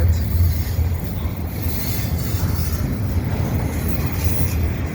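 A CN double-stack freight train rolls past at Dorval in winter, a loud, close, steady rumble of wheels and cars with a faint squeal on top.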